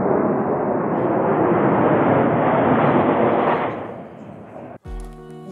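Military aircraft roaring overhead at a Russian Victory Day air show, a loud sustained broadband rumble swelling and holding for several seconds before fading, then cut off by a brief different sound at the end.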